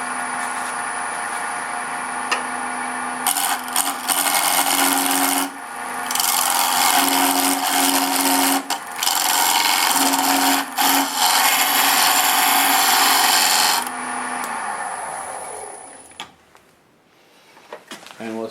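A power tool cuts a tenon into a piece of wood in a workshop, giving loud sustained grinding and rasping passes broken by short pauses before it winds down to quiet at the end.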